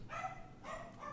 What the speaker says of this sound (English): I'm sorry for the dog, but it's not my dog.